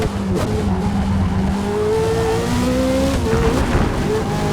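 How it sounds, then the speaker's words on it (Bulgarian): Race car lapping Sebring in Forza Motorsport, a steady engine drone with rising and falling pitch as gears shift, continuous and close throughout. "Сега карам по пистата."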